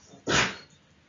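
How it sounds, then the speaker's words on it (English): A single dog bark, one short, loud burst nearby that fades quickly into quiet. "my dog barked"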